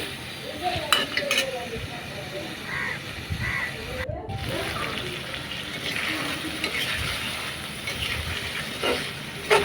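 Pigeon meat sautéing in a pan with steady sizzling and frequent stirring scrapes, close and fairly loud, with brief clinks of a utensil against the pan.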